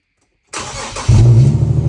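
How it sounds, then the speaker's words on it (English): A 2014 Infiniti Q50 fitted with test pipes starts up inside a garage: after a short silence the starter cranks, then the engine catches with a loud, deep, rumbling idle that echoes close by. "I have to start my car and we're in the garage. It's gonna be pretty loud"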